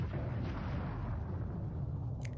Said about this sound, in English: There was a sudden explosion.